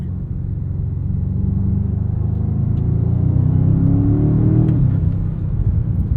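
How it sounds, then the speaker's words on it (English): A 2025 BMW M5 G90 V8 cruises along, its engine a steady, subdued low rumble with a mild swell midway, heard from inside the car. "As you guys can hear though, not a whole lot of drama from that V8."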